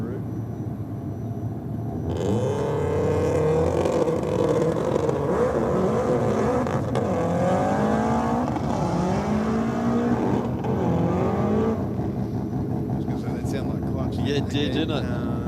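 A Subaru drag racing car launches and accelerates down the strip at Sydney Dragway, its engine note rising and falling through several gear shifts, loud and continuous beneath a commentator talking throughout.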